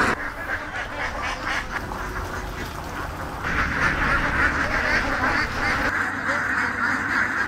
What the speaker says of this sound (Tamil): நம்மளை சுத்தி எல்லாமே நிறைய வாத்துகள் நிக்குது